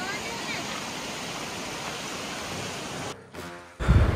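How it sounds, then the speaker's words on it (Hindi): Glacier meltwater rushes down a mountainside on a high-altitude trek near Kailash Kund, Bhaderwah, a constant broad hiss of flowing water up close, broken near the end by a brief dip and a buffeting thump. "ये देखो यहाँ ना ग्लेशियर से ऊपर से पानी आ रहा"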